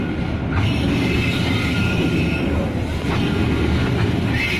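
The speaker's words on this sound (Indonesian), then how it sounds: "kereta batubara masuk jalur 2" A coal freight train rolls onto track 2 at Cibinong, a steady loud rumble of wagons and wheels with faint squeals on the rails, heard up close.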